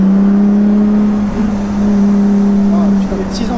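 A Lotus Exige V6 S 3.5 drives along a winding road, its engine holding a steady, loud, droning note that dips briefly and rises again near the end.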